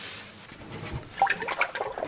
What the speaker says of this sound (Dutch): Er zal ook wel water uitkomen